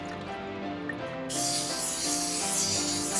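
An aerosol can sprays graffiti paint onto a nanoparticle-coated hydrophobic plastic surface, a broad hiss starting partway through and continuing steadily over a background of music.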